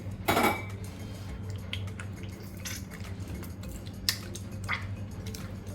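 Tamarind pieces drop into a bowl and are squeezed by hand, giving soft, close, wet squishing with a few light clinks against the dish and no talk.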